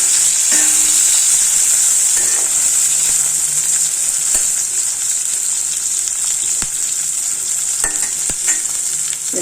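Onions and tomatoes sautéing in oil in a pan for a mutton radish curry: a loud, continuous close sizzle with occasional soft scrapes and taps from stirring, no talk.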